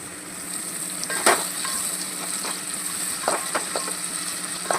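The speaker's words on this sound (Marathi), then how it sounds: "आता आपण यातच टोमॅटो घालून घेऊ." Onion and tomato fry in a pan for vegetable pulao, a steady sizzle with a few sharp scrapes of stirring, close and alone without talk.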